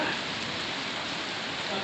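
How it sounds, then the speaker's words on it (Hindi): Heavy rain falls steadily outside a hotel in Srinagar during the tulip season, a dense, even hiss that stays constant throughout with no breaks. "बारिश हो रही बहुत तेज"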